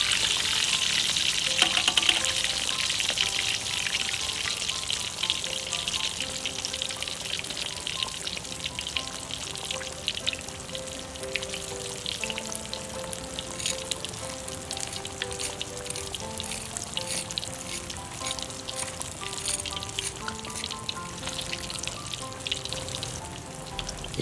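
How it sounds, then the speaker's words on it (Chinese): Pork belly deep-frying in hot oil for crispy skin, a dense, steady crackling sizzle heard up close and running unbroken throughout, with no talking. "差不多炸到我们的皮有点脆了"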